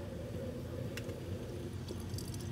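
Water boils in a coffee maker with a low, continuous rumbling bubble. A few faint clicks and ticks rise above it, all quiet and close.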